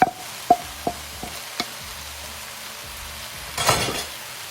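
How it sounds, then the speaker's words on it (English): Pancetta and andouille sausage hitting a pot with black-eyed peas, giving a steady soft sizzle broken by a few sharp clinks and knocks from stirring, then a louder burst of frying near the end. "We're going to go ahead and add our pancetta and our andouille sausage."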